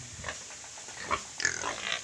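A sow on a countryside farm being taken away for breeding gives short grunts and oinks at close range, with a louder burst of squeals near the end.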